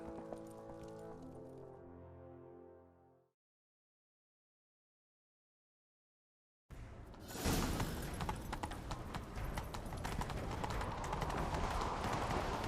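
Horse hooves galloping in The Witcher 3 video game, a dense, loud clatter that bursts in after a short tonal passage and a few seconds of silence, then runs on steadily to the end.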